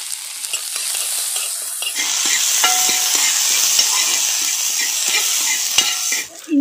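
Curry leaves and chopped shallots frying in hot oil for a whole fish curry, a steady loud sizzle with scattered pops and stirring scrapes throughout, no voices.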